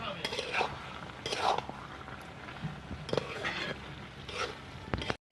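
Utensil scraping and clinking in a pan as thick bitter gourd and egg ghonto curry is stirred, several short bursts spread across the span at moderate loudness, close by, with no talking.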